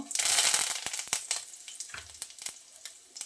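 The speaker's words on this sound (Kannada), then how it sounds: "ಇವಾಗ ಸಾಸಿವೆ ಚಟಪಟ ಅಂದ ತಕ್ಷಣ ಇದಕ್ಕೆ ಕರಿಬೇವು ಒಗ್ಗರಣೆ ಬೇವಿನ ಸೊಪ್ಪು" Mustard seeds and curry leaves hit hot oil while tempering for a colocasia stem palya, raising a loud sizzling burst that settles into scattered sharp pops and crackles.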